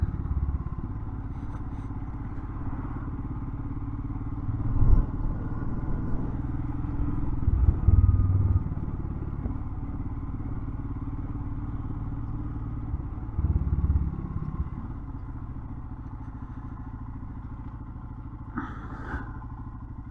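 A motorcycle rides along the Northumberland coast, its engine a steady low drone close by, with occasional bumps and thuds from the road and a slight rise and fall in power, no voices.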